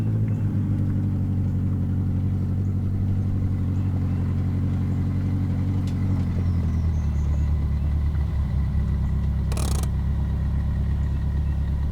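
A car driving past a store toward a gas station, its engine rumbling steadily and loudly up close with a low idle-like drone that shifts pitch partway through, no talk.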